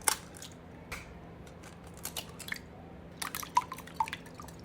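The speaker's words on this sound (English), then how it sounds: "and then we'll add 2 eggs" Two eggs slip into a bowl of pumpkin pie filling made with protein powder, giving a few soft, wet drips and small splats spaced over several seconds, quiet and close with no talking.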